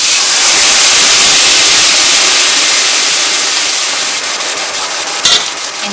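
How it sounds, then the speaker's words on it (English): Onions and black beans hit hot vegetable oil in a pan, giving a loud, steady, close sizzle that eases slightly toward the end, with a brief clink near the finish. "vegetable oil, and my oil will get hot almost immediately. Then I add my onions, and then I just add my black beans."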